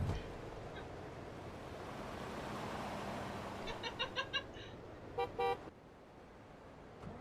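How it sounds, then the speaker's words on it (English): Truck horn honking in a truck simulator video game: a quick run of short toots, then two longer blasts, sounding over a steady rumbling engine and road noise. "What's this asshole honking at?"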